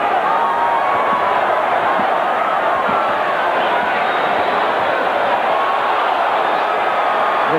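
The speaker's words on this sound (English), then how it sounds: "The crowd right now apparently is more entertained by a fight going on out there in the bleachers someplace" Boxing arena crowd roaring steadily throughout as spectators react to a fight in the bleachers, a dense, loud, continuous wash of noise with a commentator's voice mixed in.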